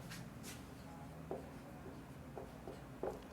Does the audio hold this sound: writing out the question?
yes